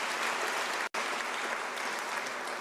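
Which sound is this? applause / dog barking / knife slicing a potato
applause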